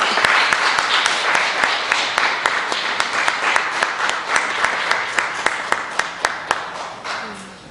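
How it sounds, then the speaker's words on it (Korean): Steady applause from an audience at a church gathering, a dense wash of clapping with sharper individual claps standing out near the end, close and loud throughout. "박수 쳐줘야 돼"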